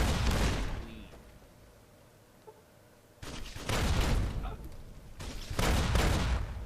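Grenade machine gun fire from Mercy, a unique weapon in the video game Fallout New Vegas: loud bursts of rapid explosive shots with a quiet gap in the middle, playing at close range.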